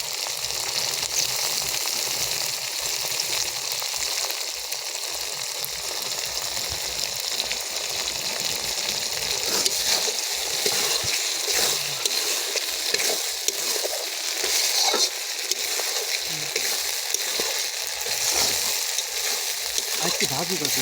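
Cumin paste and dried red chili paste fry in a pan with garlic paste while cooking egg kosha, giving a steady, dense sizzle that holds evenly for about twenty seconds with no breaks.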